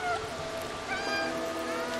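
Cat in the game Stray meowing up close, a couple of plaintive rising and falling mews over a faint watery ambient background.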